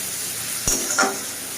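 Onions frying in a pan with salt for a red lentil and fish roe dish: a steady soft sizzle with two brief stirring scrapes, close and alone.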